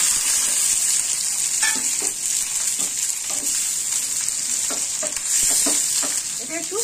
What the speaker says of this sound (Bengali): আর এই পেঁয়াজ আর আপনার টমেটো, এই দুটো একটু ভেজে নেব।